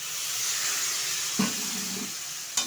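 A splash of water added to a frying paste of poppy seed, cumin, ginger and chilli with turmeric, giving a steady bright hiss and sizzle, with a couple of soft utensil knocks against the pan, close and constant.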